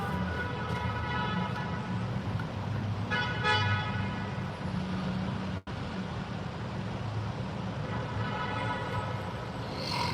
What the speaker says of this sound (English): People are honking in a tunnel.